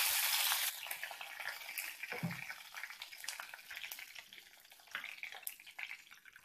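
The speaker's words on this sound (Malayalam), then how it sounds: "ഇതിലേക്ക് 1 ടീസ്പൂൺ കടുക് ഇട്ട് കൊടുത്തിട്ടുണ്ട്. ഇനി കടുക് പൊട്ടി വരുമ്പോഴേക്കും" Mustard seeds in hot coconut oil for a spinach and lentil thoran open with a loud burst of sizzle, then settle into a quieter crackle with scattered pops.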